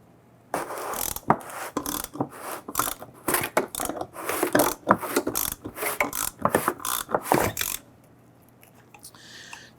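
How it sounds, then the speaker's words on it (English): A 3/8 ratchet turns a lock ring tool on the fuel pump of a 1997-2006 Jeep Wrangler, making a rapid run of loud, close clicks in a steady rhythm for several seconds before stopping. "Using a 3/8 ratchet on our tool."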